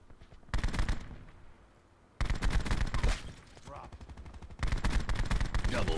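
The Echohawk Dual Bore, a heavy LMG-and-assault-rifle hybrid in a Treyarch shooter, fires in loud, rapid sustained bursts, separated by a brief pause and a quieter stretch. A voice speaks at times between the bursts.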